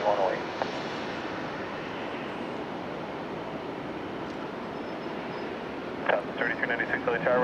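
Jet airliner taking off from runway 24 left at LAX, a broad steady engine roar at a distance throughout, with someone talking briefly at the start and again near the end.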